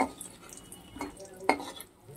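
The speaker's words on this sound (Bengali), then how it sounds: "খুব বেশি ভাজতে হয় না, বড়ি অল্প করলেই হয়ে যায়।" Bori, small lentil dumplings, being stirred in hot oil in a pan, giving a few soft scraping and clinking strokes over a faint sizzle.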